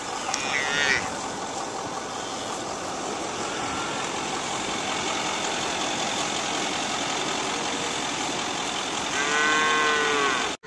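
Braford cattle and calves in a pasture in Sinton give a couple of drawn-out moos, one near the start and one near the end, over a steady engine rumble while someone talks.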